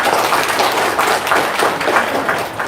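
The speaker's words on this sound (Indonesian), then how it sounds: "Tepuk tangan dulu dong." An audience at a business talk gives a round of applause, a steady, fairly loud wash of clapping lasting a few seconds without a break.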